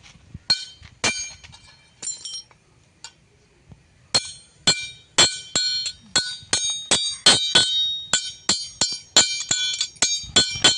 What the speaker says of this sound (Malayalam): ഇരുമ്പിൻ്റെ ഉളി വെച്ചിട്ടാണ് ആ ഇരുമ്പിനെ തന്നെ വെട്ടി മുറിക്കണം.